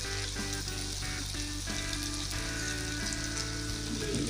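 Spices with chilli powder, salt and cumin powder fry hard in a pan for a jackfruit and prawn curry, a dense continuous close sizzle with faint stirring scrapes throughout.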